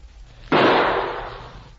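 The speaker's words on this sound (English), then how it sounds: "Now, here goes our last shot." Single sharp gunshot in a radio drama, the last bullet fired, a sudden loud crack that decays over about a second, alone with no talking.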